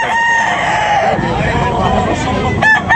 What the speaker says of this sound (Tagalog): Quality manok.